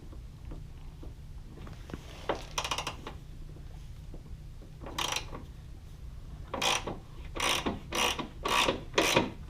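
A ratchet wrench works on a bolt on a car engine mount, giving a few sparse clicks and then bursts of rapid ratcheting strokes that come closer together and grow louder toward the end, close up over quiet background.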